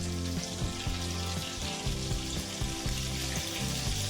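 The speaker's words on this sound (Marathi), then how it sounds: "तर लसूण इथे छान परतून घ्यायचं आहे लाल होईपर्यंत" Garlic frying in hot melted butter in a pan for pasta, a steady close crackling sizzle with small popping bubbles that continues evenly and has no talking over it.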